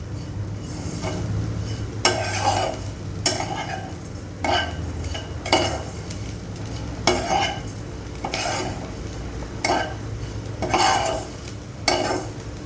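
Grated coconut is stirred and roasted in a pan, with a steady dry sizzle under repeated scraping strokes of a spoon against the metal, each stroke landing every second or so.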